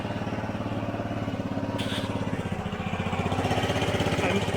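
A Honda Elite 150 scooter engine idles close by with a steady, rapid putter, a brief higher rattle partway through and the revs rising slightly near the end.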